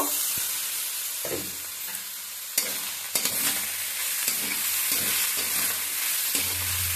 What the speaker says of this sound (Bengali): এইভাবে ঢেকে ঢেকে ভাজতে হবে।